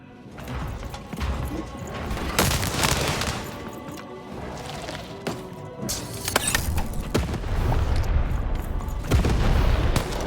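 Cannon fire in the video game Lost in Random, a dense run of heavy booms and crashing impacts over a loud, busy game soundscape for about ten seconds, with no talk.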